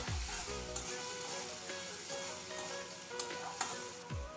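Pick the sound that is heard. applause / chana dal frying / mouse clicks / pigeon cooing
chana dal frying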